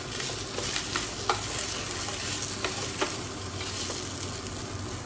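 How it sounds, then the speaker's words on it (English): Green beans stir-fried with beef and garlic in a pan over lowish heat, a steady close sizzle broken by repeated scraping strokes of a spatula against the pan. "You should stir fry it in a little bit low temperature."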